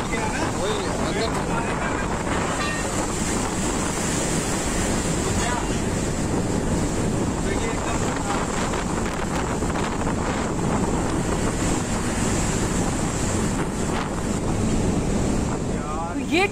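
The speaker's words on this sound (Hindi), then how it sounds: "इस वीडियो में आप देख सकते हैं लहरें किस तरीके से टग बोट को डुबाने पर आमादा हैं।" Strong sea waves crash and surge around a tug boat in rough water, a dense, continuous roar of surf with heavy wind buffeting the microphone throughout, loud and close.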